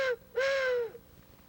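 A hand-blown owl hooter turkey call imitating a barred owl: a short hoot, then a longer, loud, nasal wavering hoot that trails off, sounding close and alone against quiet outdoor background.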